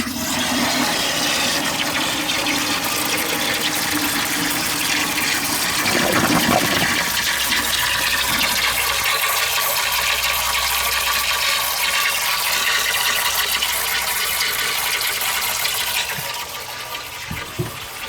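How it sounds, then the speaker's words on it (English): A restored 1950s Athenium toilet cistern flushes with a loud, steady rush of water that runs for about sixteen seconds, then drops to a quieter refill trickle. "let's give it another flush"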